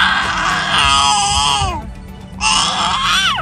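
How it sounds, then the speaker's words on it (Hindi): A baby screams and cries loudly and almost without pause on a flight from Karachi to Islamabad, with one brief dip before the wailing swells again. "इतना कौन चीखता है?"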